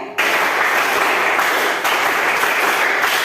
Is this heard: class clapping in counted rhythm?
yes